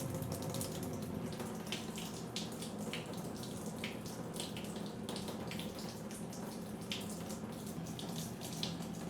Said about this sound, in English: So I've got to leave the water running for 5 minutes.